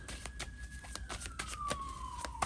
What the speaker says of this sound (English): Because the ambulance is running to go save somebody that's in distress.